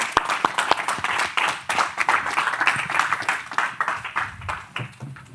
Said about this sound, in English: let's applaud the speaker once more.